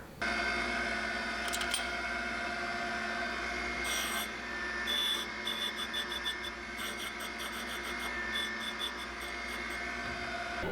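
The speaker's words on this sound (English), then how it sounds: "I always like to take a file to all of the machined faces of the cap to get rid of any raised edges or burrs" A hand file rasps across the machined faces of a connecting rod cap from a 255 Mercury flathead V8, deburring raised edges; steady close scraping with rhythmic bursts of short strokes over a constant shop hum.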